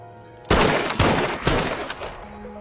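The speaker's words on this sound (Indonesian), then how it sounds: "Akhirnya Danny pun dengan berat hati menembak kakaknya tersebut hingga tewas." Several loud gunshots ring out in quick succession in a zombie film, sharp blasts about half a second apart, followed by a fading echo.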